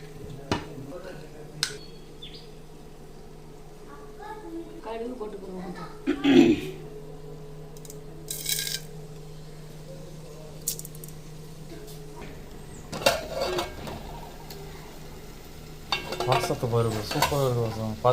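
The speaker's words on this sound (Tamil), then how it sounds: "கஞ்சி தாளிக்கிறது எண்ணெயை ஊற்றிக்கிறோம்" Oil sizzles in a pan as fermented leftover rice porridge is tempered, while a utensil stirs and scrapes against metal, with clinks of cookware and talking in between.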